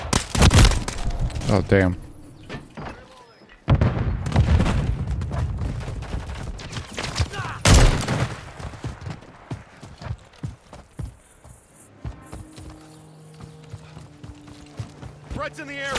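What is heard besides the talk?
grenade explosion and gunfire in Call of Duty video game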